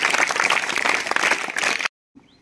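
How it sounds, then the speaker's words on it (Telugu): Students at a Zilla Parishad high school in Khudabakshpally village burst into loud, dense applause for about two seconds, then it cuts off abruptly into silence before a faint noise returns. "వాళ్ళందరికీ ఒకసారి గట్టిగా చప్పట్లు కొట్టాలి"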